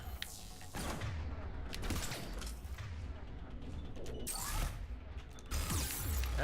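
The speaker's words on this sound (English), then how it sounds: "Oh, he's repairing his turret." Mechanical clanks, creaks and ratcheting as a turret is repaired in the video game Mass Effect 3, mixed with bursts of gunfire and game effects at steady, fairly loud level.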